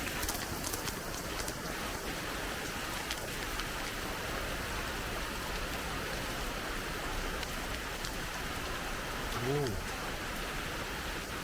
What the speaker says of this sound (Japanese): ちょっとだけ雨が降ってる。